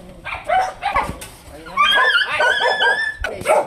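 Several dogs at a mushroom farm bark, yip and whimper close by in bursts, with people talking in between.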